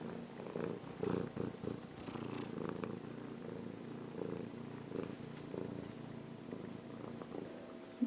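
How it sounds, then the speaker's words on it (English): A male cat purring steadily up close, a low continuous rumbling rhythm that rises and falls with each breath. "I don't know if you can hear him purring."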